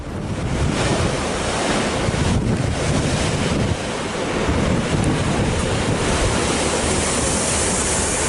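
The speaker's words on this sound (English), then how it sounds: "ocean waves crashing directly against the passing train cars" Sea waves crash against the coastal railway at Dawlish, England, where trains run right beside the water. A loud, continuous surf roar with heavy wind buffeting lasts throughout, with no voices.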